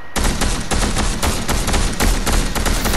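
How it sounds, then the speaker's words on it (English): Gunfire in the video game Fortnite, a loud, dense, continuous burst of rapid shots and explosive cracks lasting about three seconds with no pause. "There's gunshots happening over there,"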